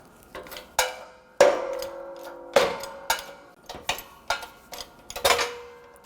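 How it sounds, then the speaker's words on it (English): A press forces the wheel hub out of the steering knuckle of a 2013-2019 Ford Escape. Sharp metallic cracks and pops strike at irregular intervals, some followed by brief ringing tones, close and fairly loud. "we're gonna press the hub out"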